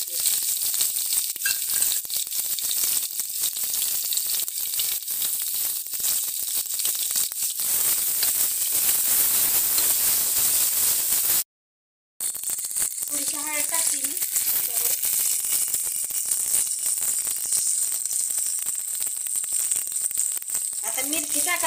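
Garlic sizzling in hot oil while being stirred for a spicy taro-leaf stalk curry, a loud, steady crackling fry close up with scraping stir sounds, briefly cut off in the middle before resuming.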